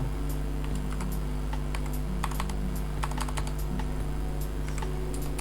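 Rapid typing on a mechanical computer keyboard, a quick irregular stream of sharp key clicks over a low steady hum, nearby and fairly quiet, with no voices.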